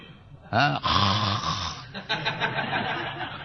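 A man imitates the snoring of meditators with his voice, a few rough, drawn-out snore-like sounds with laughter-like breaths, loud and close over a faint room background.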